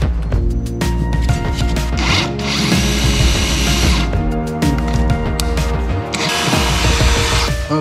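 A power drill fitted with a plain bit after a hole saw, boring a first pilot hole while fitting out a workshop studio: a loud, steady motor whine with ratcheting, grinding bursts as the bit bites, running continuously throughout.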